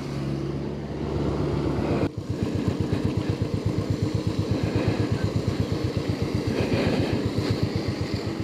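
A motorcycle rides along a muddy road, its engine droning steadily at first, then settling into a loud, close, rhythmic thumping beat that carries on without pause.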